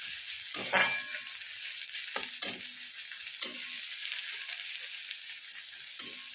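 Chopped onions frying in a pan into crisp berestha for egg korma, a steady close sizzle broken by several sharp clacks of a stirring spoon against the pan.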